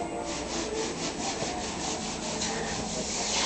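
Body filler over a welded-in patch on a Chevrolet quarter panel is sanded in a steady, rhythmic back-and-forth rasp, close and continuous with no talking.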